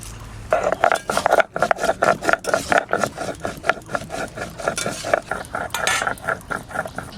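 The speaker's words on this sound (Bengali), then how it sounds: "এদিকে গরম মশলাটা বেটে নিই" Whole garam masala being ground into a paste for a green jackfruit curry, rhythmic rubbing and scraping strokes repeated rapidly and close by, each stroke a short gritty pulse.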